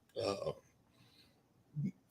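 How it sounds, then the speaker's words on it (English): A man's burp during a racing podcast conversation about engine oil, one short low belch after a brief burst of speech, close to the microphone. "sorry, I'm burping"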